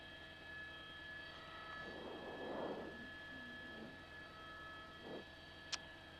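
A DC-10 air tanker flying over a wildfire makes a faint, distant aircraft engine drone that swells briefly and then fades, over a steady background hum with a short sharp tick near the end.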